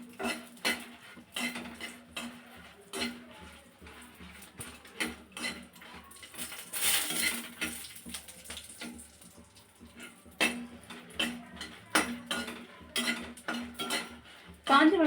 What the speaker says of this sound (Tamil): காஞ்ச மிளகாய் பொன் வறுவலாக வரணும்